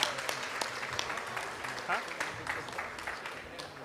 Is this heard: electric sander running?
no